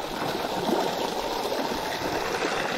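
A waterfall at the end of a mountain trail on Adatara, a steady broadband rush of falling water, continuous and fairly close with no talk.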